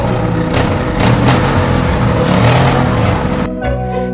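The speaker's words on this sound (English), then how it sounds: "very soon they could hear his truck motoring towards them" A cartoon truck motors toward the listener, its engine a steady loud drone with slight rises in pitch, then cutting off abruptly near the end.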